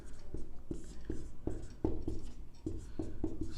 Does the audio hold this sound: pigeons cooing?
no